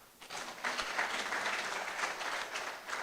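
Clapping breaks out from the audience at an inaugural university lecture, a brief, moderately quiet patter of hands that starts abruptly and continues evenly.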